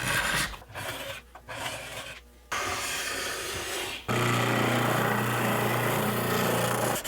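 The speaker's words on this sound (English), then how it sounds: "it's just a lot of scraping and sanding to get this thing ready for a clear coat" Rough scraping and rasping strokes on a black limba wood guitar body, broken by short pauses, then a continuous louder sanding grind with a steady low hum.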